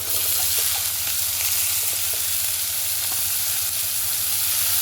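Drained cauliflower florets fry in hot fish oil with a steady, even sizzle and crackle that never lets up, close by and with no talking.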